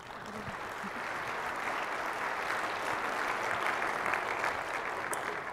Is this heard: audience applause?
yes